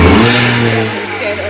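A 2018 Honda Accord's 1.5-liter turbo engine, fitted with an aftermarket downpipe, revs loudly up close with a raspy, droning tone that holds then eases off, while a person briefly speaks over it.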